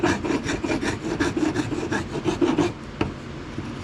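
Sandpaper rubs over the inner bark of a carved wooden wand in rapid back-and-forth rasping strokes, close and steady for nearly three seconds before stopping with a single faint tap.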